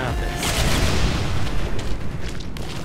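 A bomb explodes in the Portal 2 video game with a loud, close boom. A broad rumbling roar then fades slowly over a few seconds, with no speech.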